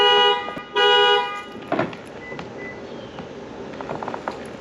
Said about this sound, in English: sat on the alarm on my key